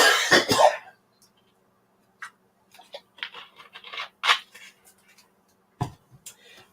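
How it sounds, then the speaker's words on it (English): A few close coughs and throat-clearing sounds burst out at the start, then soft handling scratches and clicks in a quiet room, with one more short cough near the end. "Apparently I cough when I want to drink something"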